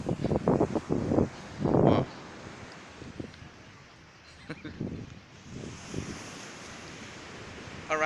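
Atlantic Ocean surf off Lagos washes in broad swells under steady wind buffeting the microphone, with voices talking loudly over the first couple of seconds before the waves carry on mostly alone.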